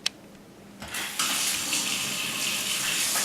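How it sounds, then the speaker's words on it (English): A faucet turned all the way on, starting with a click and then rising into a loud, steady gush of running water that continues without any talk. "Okay, back to the faucet."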